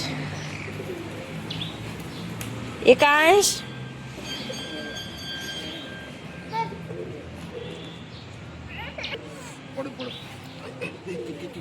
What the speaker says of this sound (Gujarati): જ્યારે એટલા કબૂતર ખાવા આવ્યા